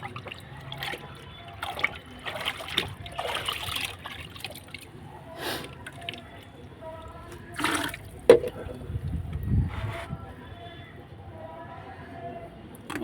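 Rice-washing water is poured from a container onto garden plants, including a brinjal plant, giving splashy trickling and dribbling, with someone talking over parts of it and a brief knock partway through.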